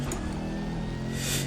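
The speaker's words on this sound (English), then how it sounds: "Nice fruity tone to the engine and exhaust." Opel Astra race car in the Raceroom racing game, engine and exhaust holding a steady, rich drone that swells slightly toward the end, loud and continuous with no talking.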